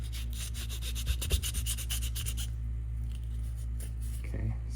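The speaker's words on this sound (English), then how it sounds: "I am going to just clean that up with a file." Rapid rhythmic rasping strokes of a file on plastic tubing of a life-size Proton Pack prop, a quick series of scratchy scrapes that slows into sparser rubs, close up and alone.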